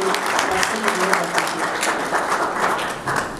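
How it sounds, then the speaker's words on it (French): An audience applauds presidential candidate Martin Fayulu at a conference, a thick, continuous clapping from many people in a room, with a voice faintly mixed in underneath. "Encore une fois, des applaudissements pour le candidat président de la République,"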